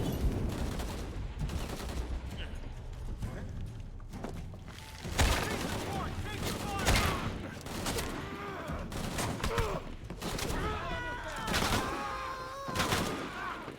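Sporadic video game gunfire cracks in scattered bursts, fairly distant and mixed under ongoing talk from players.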